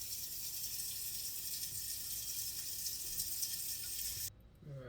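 Water pours steadily from a tap into a cooking pot for peas, a constant close gush that cuts off abruptly near the end.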